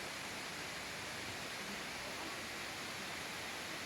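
Rushing water at Todtnau Waterfall forms a dense, unbroken roar, loud and steady throughout with no voices.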